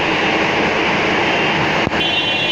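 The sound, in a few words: Dhaka metro rail train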